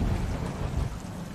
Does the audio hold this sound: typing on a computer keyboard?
no